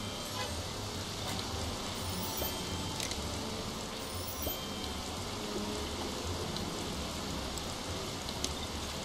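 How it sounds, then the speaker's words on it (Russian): Steady, dense hiss of rain falling continuously in the Bee Movie Game, with a low rumbling drone underneath and faint scattered ticks throughout. "Эй, как меня бьет этот дождь?"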